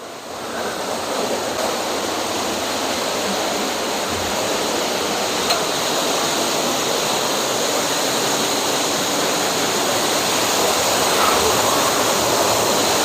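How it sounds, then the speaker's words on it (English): Water running down inside a mine shaft in the Peak District, a steady broadband rush that stays even and fairly loud throughout, with no voices over it. "I can hear water running down there"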